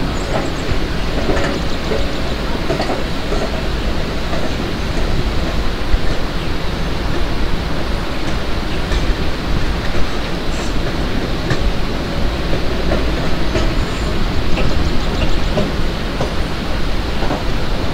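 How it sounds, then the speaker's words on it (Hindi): A freight train rumbles along in the MSTS Open Rails simulator on an Indian Railways route, a steady, dense roar of wheels and rail noise holding at constant loudness throughout with no talk. "and I think guys some freight train is approaching towards us"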